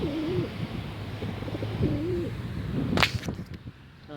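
Wild pigeons coo in low, rolling phrases over outdoor background noise on a beach, followed by a sharp crack near the end.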